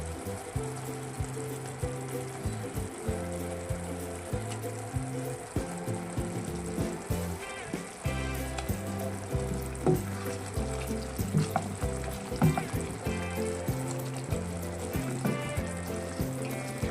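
Pricked boiled eggs fry in a pan for an Assamese egg curry, a soft continuous sizzle with occasional stirring sounds running under background music.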